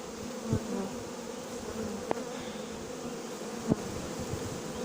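Honeybees fanning at the hive entrance during hiving give a dense, continuous buzzing drone, close and steady, with a few faint clicks over it.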